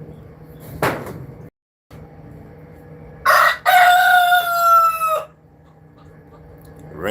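A rooster crows once in a rural garden during an early harvest: a loud, rising then falling crow about two seconds long, with quieter outdoor background and a brief knock before it.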